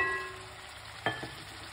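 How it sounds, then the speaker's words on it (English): Vegetables frying in a pan at a Jamaican street food stall give a soft, steady sizzle, broken by a clank and a lighter knock of a utensil against the pan partway through. "So we're gonna fry up this."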